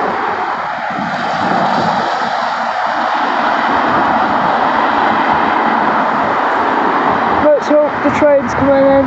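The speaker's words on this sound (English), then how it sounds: "Trains coming in." A train on the West Coast main line rumbles past in a steady, loud, broad roar that holds for several seconds outdoors, with a voice briefly speaking near the end.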